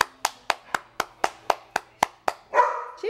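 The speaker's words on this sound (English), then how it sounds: "Clap for mommy" A baby claps their hands in a steady series of about nine sharp, evenly spaced claps, close and clear, before a brief higher-pitched vocal sound at the end.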